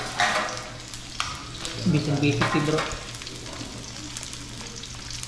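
Chopped onion and garlic frying in a pan, a steady sizzle with a stronger burst of hissing as the ingredients hit the oil, while someone talks briefly over it.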